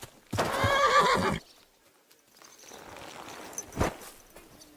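A horse neighs loudly in Kingdom Come: Deliverance 2, a rough whinny lasting about a second, followed by quieter ambience and a single hoof thud.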